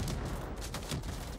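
Rapid gunfire from a weapon in Helldivers 2, a steady burst of closely spaced shots that runs the whole moment at moderate loudness, with dense broadband crackle and no talk over it.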